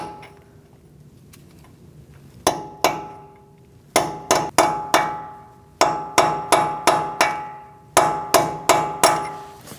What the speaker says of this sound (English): we're going to peen down the nut using a cold chisel or a punch.